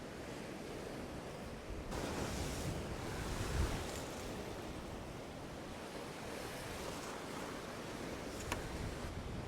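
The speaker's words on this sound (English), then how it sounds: "Very windy here." Strong coastal wind buffets the microphone in a constant roar, mixed with surf washing nearby; gusts swell briefly, no voices.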